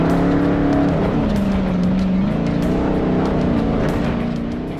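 Ultra4 off-road race car launching at the King of the Hammers 2025 Race of Kings, its engine droning loud and close with rising and shifting pitch as it pulls away, steady with no talk.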